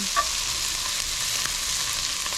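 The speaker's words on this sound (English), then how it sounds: "you can smell that garlic hitting that hot skillet" Garlic frying in a hot skillet, a steady bright sizzle with a couple of small spatula taps, close and even throughout, no talking.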